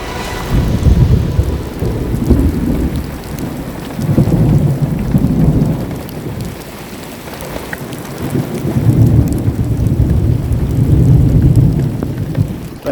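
Heavy rain pours steadily during a violent thunderstorm over the Lublin region of Poland, with deep rolling thunder rumbling repeatedly underneath, loud and enveloping, with no one speaking.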